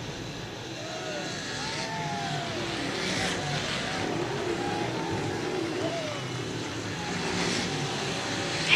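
Modified race cars finish a race at New Egypt Speedway, engines droning and whining at a distance under a steady crowd-and-track wash, while an announcer talks over the public address.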